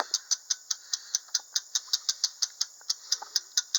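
A hand crank winch ratchets as it lifts a garden tractor, a crisp, regular clicking at roughly five clicks per second, close and isolated, with no voices.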